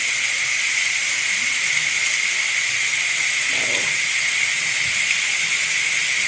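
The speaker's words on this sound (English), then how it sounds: "I'm going to go ahead and let the steam out of this." A Ninja Foodi pressure cooker vents steam in a steady, loud, close hiss that holds unbroken throughout, with no voices over it.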